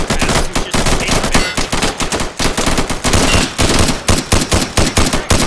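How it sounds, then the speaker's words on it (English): Loud, rapid gunfire from the video game Insurgency, with dense automatic bursts and repeated sharp shots crowding the whole stretch, up close and relentless. "just have casual conversation over gunfire"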